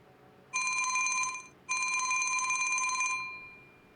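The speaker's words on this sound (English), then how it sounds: "he uses his phone to call the local sheriff" Telephone ringing in a staged call to a county sheriff's office, two long electronic bell bursts separated by a short gap, fairly loud and clear with no talk over it.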